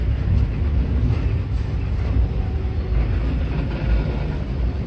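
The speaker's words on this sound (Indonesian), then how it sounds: "Kereta barang 30 gerbong." A long 30-car freight train rolling past, a continuous loud low-frequency rumble and rattle of wagons heard close by with no pauses.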